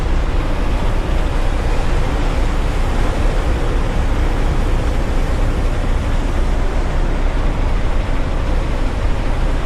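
Loud, unbroken roar of rough Black Sea waves and blowing wind in a storm, a dense rushing wash with no pauses or voices.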